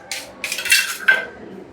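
A knife spreads butter on sandwich bread, giving three short scraping swipes, close and fairly loud, with brief pauses between strokes and no talk.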